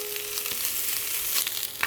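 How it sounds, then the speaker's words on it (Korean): Slices of Spam sizzle steadily as they fry to golden brown in a hot pan, a close, continuous crackle with small pops and no voices. "노릇노릇 구워줍니다."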